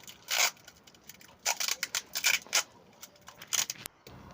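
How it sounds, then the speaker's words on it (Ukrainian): Adhesive tape being pulled and wrapped around a bundle of capacitors for a homemade generator attachment for a walk-behind tractor, heard as a series of sharp, crackly tearing and rustling bursts, close and fairly loud, with no talking. "я зараз все це буду скручувати скотчем"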